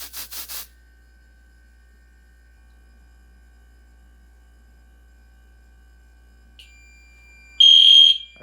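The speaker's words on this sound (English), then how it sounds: "let's kick this thing into alarm." An Edwards fire alarm system under test bursts on loudly near the end as a piercing, steady high-pitched tone, following a brief beeping at the start and a long quiet stretch.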